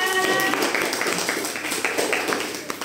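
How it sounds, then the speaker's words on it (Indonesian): Classmates applaud a group presentation in a fourth-grade classroom, a short burst of scattered clapping fading over a few seconds, moderately close with a brief tone at the start. "Oke, tepuk tangan untuk semuanya"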